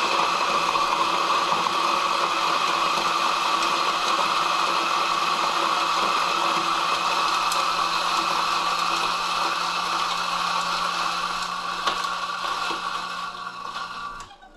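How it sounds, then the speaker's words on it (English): An espresso grinder, part of a setup with an Olympia Cremina SL spring lever machine, grinds coffee beans in a steady, loud whirring drone that runs nearly unbroken and trails off near the end. "Load the beans into the grinder"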